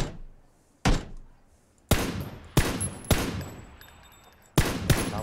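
Single gunshots in PUBG strike around a tree, landing as sharp, loud separate cracks spaced irregularly, about six in total, with quiet between them.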